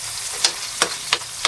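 Chopped onions sizzle in hot oil, giving a steady bright frying hiss with a few sharp crackles and pops spaced through it. The sound is close and no one speaks over it.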